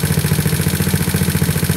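A GY6 scooter engine idles on its auto choke while warming up, a loud, close, steady putter with an even pulsing rhythm and a constant high whine above it.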